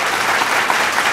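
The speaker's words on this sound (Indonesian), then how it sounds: "Tepuk tangan buat kamu semua." Applause from children and an audience at a birthday gathering with orphaned children, a brief steady burst of clapping filling the whole moment with no talk over it.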